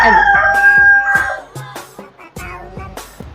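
A rooster crows loudly up close, a long drawn-out call followed by scattered clucks and short clattering noises.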